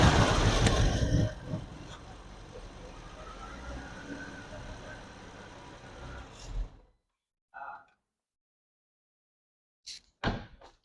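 A BMW F80 M3 engine fitted with cheap aftermarket intakes and running with one ignition coil disconnected idles loud and rough, then cuts off, leaving silence broken by a few short bursts.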